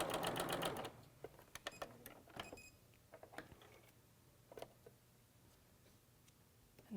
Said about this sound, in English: So I'll sew those through.